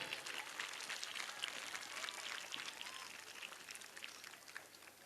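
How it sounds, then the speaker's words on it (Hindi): Faint, sustained crackling applause from the crowd at a school annual function at M.B. Convent. The clapping sounds distant and even, easing slightly toward the end. "खुद के लिए जोरदार तालियां बजाइए।"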